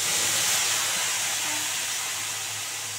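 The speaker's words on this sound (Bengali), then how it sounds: "এবার মশলাটা দিয়ে দেবো, মিক্সিতে করা মশলাটা দিয়ে দেবো বন্ধুরা।" A mixer-ground spice paste meets hot oil in a pan for a koi fish curry, producing a loud, steady steamy hiss that holds evenly throughout without any voices.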